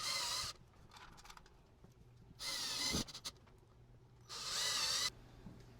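A power drill drives screws into a wall while an alarm panel is mounted, with three bursts of loud whirring about two seconds apart and quiet pauses and small handling noises between them.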